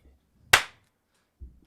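A single sharp hand clap rings out clearly in a quiet podcast room, used to sync a camera recording. It decays quickly, and faint low murmurs come before and after it.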